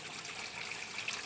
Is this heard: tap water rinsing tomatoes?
yes